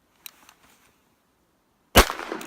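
A single loud, sharp Winchester 94 lever-action rifle shot in .30-30, fired from a standing position at an outdoor target, with a brief ringing tail after a few faint taps.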